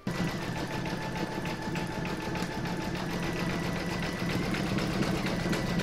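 An embroidery machine zigzag stitches round a circle on an in-the-hoop table topper, a continuous close mechanical rattle with a fast regular needle beat and a slight rise in loudness near the end.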